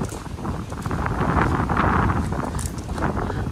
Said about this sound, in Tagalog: Sobrang lakas na eh. Iba yung hangin po mga amigo.